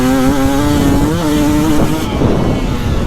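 A 2025 KTM 300XCW Champion Edition two-stroke dirt bike drones steadily under a rider, the engine note climbing and dipping through the revs with wind noise, then shifting to rougher running near the end.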